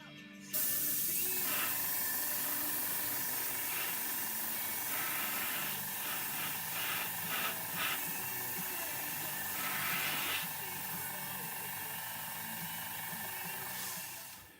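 A model locomotive is spray painted red with a 50-50 mix of thinners and paint, a steady close airbrush hiss running continuously for over ten seconds with brief louder bursts.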